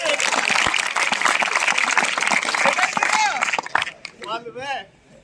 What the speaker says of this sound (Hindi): अरे ताली बजाओ इसके लिए।